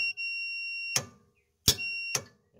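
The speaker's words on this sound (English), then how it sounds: "touch each side of the solenoid" An electrical tester's steady beep runs behind three sharp clicks or taps as it touches each side of a solenoid; the tone cuts out and returns between them, close and clear, with no talking.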